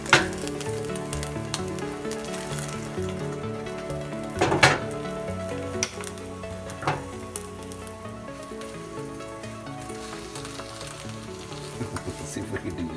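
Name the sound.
egg frying in an old cast iron pan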